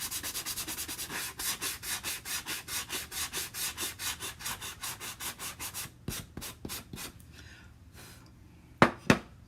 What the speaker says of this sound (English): I need to be a little more vigorous with my sanding.